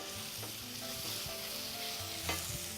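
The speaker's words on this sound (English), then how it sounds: "Let the eggplant get completely coated with the sauteed onions and the garlic." Eggplant sautés in a pan with sautéed onions and garlic, giving a dense, continuous sizzle with stirring and tossing. Soft tonal background music sits underneath, and there is no talk.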